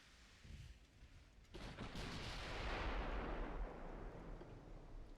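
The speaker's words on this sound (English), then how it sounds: "You're returning fire against the DD" Naval cannon fire from a cruiser battle in Ultimate Admiral Dreadnoughts, with 6-inch guns, historical Germany 1940: a quiet start, then a heavy boom breaks into a loud, sustained rumbling roar that slowly fades, with no voices.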